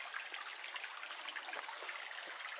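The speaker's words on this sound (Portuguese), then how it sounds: "Aí eu tô aqui nesse córrego. Água limpinha." A clear, clean stream near Brejim trickles and burbles softly, a faint continuous splashing with small droplet patters, heard alone with no talking.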